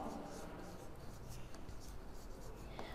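Chalk or marker writing on a board during a third-grade Bengali language lesson, a steady scratchy rubbing that runs throughout, with a teacher's voice speaking over it.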